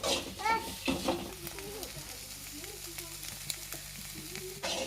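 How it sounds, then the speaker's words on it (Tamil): Chopped onions sautéing in a pan for restaurant-style egg fried rice give off a steady, low sizzle that runs throughout, with occasional scraping and stirring clatter and a voice talking briefly at the start. "இப்போ வந்து பார்த்தீங்கன்னா வெங்காயம் போட்டாச்சு. அதை கொஞ்சம் நேரம் வதக்கலாம்."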